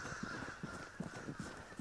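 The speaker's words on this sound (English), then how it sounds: "you see the crows are still going off" Crows cawing in the video game Vigor, a run of harsh repeated calls spaced through the clip over a steady ambient background, no voices.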